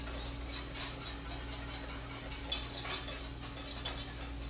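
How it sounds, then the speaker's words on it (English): Sauce whisked in a pan for a croque madame, a steady close scraping and stirring texture running without pause over a low kitchen hum, with faint sizzling in the background. "and keep whisking"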